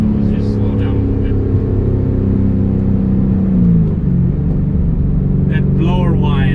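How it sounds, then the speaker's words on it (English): A 2013 Shelby GT500 with a supercharger hums in a close, steady whine over a deep engine drone. The pitch sweeps down midway as the car eases off, and voices talk near the end. "That blower whine is heaven."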